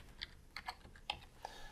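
Light typing on a computer keyboard while entering a drug allergy into an electronic patient record at a clinic, a handful of separate close keystrokes spread irregularly with short pauses between them.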